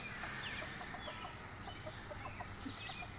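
A flock of chickens clucks steadily throughout, many overlapping birds close by with busy, chattering calls and no one speaking.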